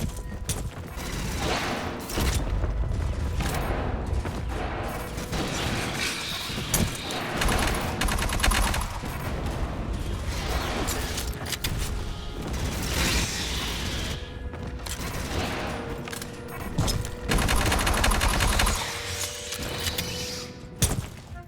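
Sentry guns in Aliens: Fireteam Elite fire steady, dense automatic bursts that stay loud and close. Mechanical clatter and game effects run through the whole stretch.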